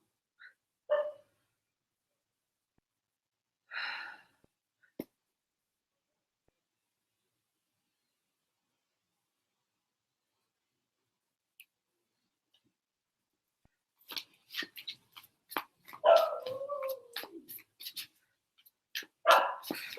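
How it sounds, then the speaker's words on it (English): Dogs bark sporadically in the distance, a few isolated yaps early, then a cluster of sharper barks and yips toward the end. "I can probably hear my dogs barking."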